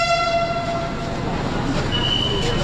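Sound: Pune metro train ride

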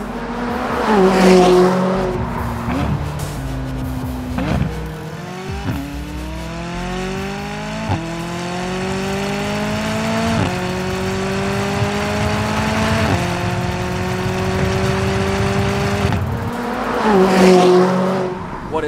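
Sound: McLaren 570 with Ryft titanium exhaust system

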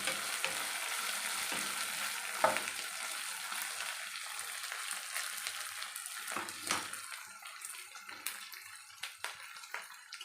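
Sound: gram flour bajjis frying in hot oil

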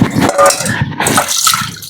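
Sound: pouring water

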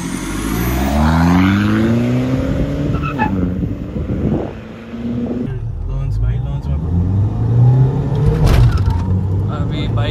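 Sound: Mahindra XUV500 and Scorpio S11 SUVs accelerating in a drag race

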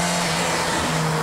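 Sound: Renault 12 rally car revving engine

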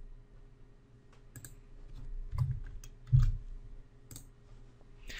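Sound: mouse click on OK in Excel

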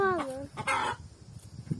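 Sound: hens clucking in a village coop

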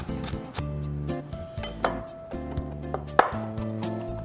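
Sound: chopping black olives into small pieces

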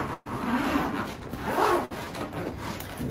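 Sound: unzipping a zippered carry case

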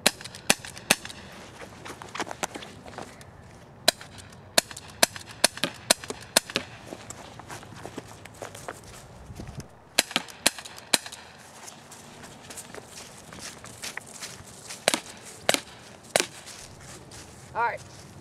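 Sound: WG Sport non-blowback 1911 CO2 pistol shots

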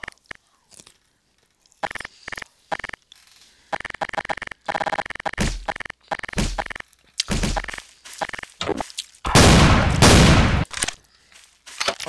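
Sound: sawed-off shotgun firing in the video game Garry's Mod

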